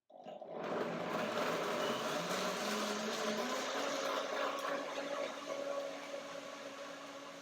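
A Revo Blend blender whirs through unsoaked cashews for pea soup, starting abruptly and holding a loud, steady motor roar with a grinding edge that eases slightly toward the end.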